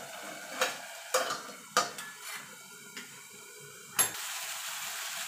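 Ridge gourd cooking in a pan, with a faint, low sizzle and a few distinct clinks and scrapes of a spatula stirring against the pan, close and quiet.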